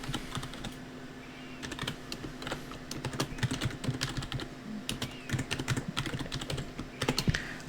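Python code being typed on a computer keyboard: steady, close key clicks in irregular bursts, with a faint hum underneath and no talking.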